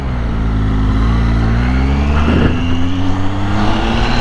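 A 2014 Triumph Tiger 800 XC motorcycle riding through town, its engine droning close and steady with a slight rise and fall in pitch as the throttle changes, with no talking.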